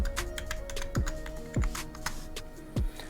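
An IP address is typed on a computer keyboard, a rapid run of close, crisp keystrokes with a few heavier taps, heard alone with no talking.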